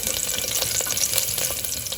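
Crushed garlic frying in olive oil, a close, steady crackling sizzle with fine popping throughout.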